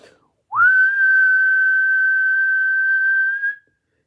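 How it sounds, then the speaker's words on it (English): A person whistles a single steady, clear tone for about three seconds, indoors in a quiet home, close and alone. "It spikes when I whistle."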